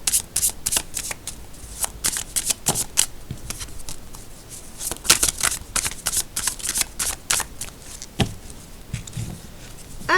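A tarot card deck is shuffled repeatedly by hand, close and crisp, with rapid riffling flutters and snapping card bursts continuing throughout.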